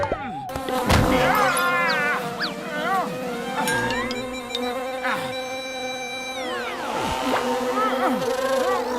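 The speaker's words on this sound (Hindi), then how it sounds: "छत्ता, मधुमक्खी का छत्ता।" Bees buzz steadily around a honeybee hive, a continuous close drone with whining, shifting pitches running throughout, while voices talk over it.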